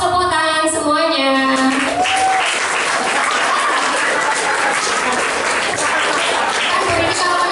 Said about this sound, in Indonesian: hadiahnya kita beri applause, tepuk tangan semuanya